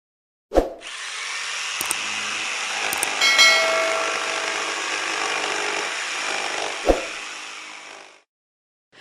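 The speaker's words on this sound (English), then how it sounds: "You have a band saw, you have a circular saw, and this one makes this sound." A circular saw cuts through wood in one sustained pass: a sharp start, a steady, bright, rasping whine for several seconds, then a knock as the cut ends. It is loud, close and alone.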